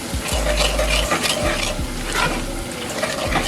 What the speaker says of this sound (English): we're gonna deglaze the pan with about a cup of red wine. And again, scraping that fond up from the bottom